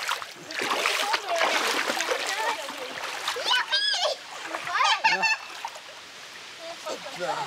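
A family walks through a stream, with water splashing and sloshing underfoot close by. Children and adults talk and call out over it, and the voices sometimes rise into excited cries.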